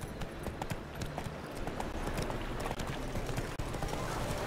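Roach, a horse in The Witcher 3 video game, gallops with steady, rapid clip-clop hoofbeats that carry on throughout, close and loud over a dense outdoor ambience.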